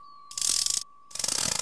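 Cartoon clock mechanism ratcheting in two quick bursts of clicking gear and pawl sounds, close and clear, with a thin steady tone underneath.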